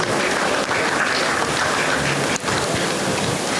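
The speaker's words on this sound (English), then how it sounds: "give a big round of applause to our meritorious students for their outstanding achievements and hard work" Dense, continuous clapping fills a graduation ceremony hall as the crowd applauds honoured students, a loud, even wash of hands with no voices heard.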